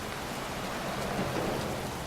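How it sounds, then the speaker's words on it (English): Pouring rain falls in a cemetery in the video game Heavy Rain, a dense, even hiss of downpour that runs unbroken and fairly loud throughout, with no voices. "standing in a cemetery in pouring rain"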